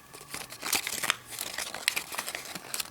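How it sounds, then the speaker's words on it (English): Origami paper is folded down and creased by hand into a tricube model, close crisp crinkles and rustles in quick irregular bursts. "And of course you're just gonna fold this down like that."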